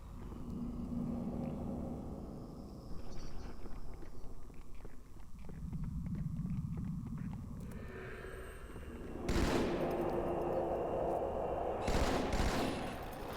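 Gunfire from Flood enemies armed with shotguns in a Halo game, a string of scattered shots and impacts over rumbling battle noise, with a couple of louder bursts near the end.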